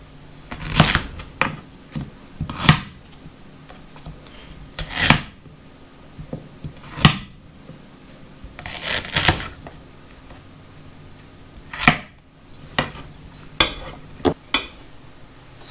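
Fresh, unskinned ginger is chopped with a knife for ginger lemon mead, with a dozen or so sharp, close knocks on a cutting board coming at an uneven pace, separated by short quiet gaps.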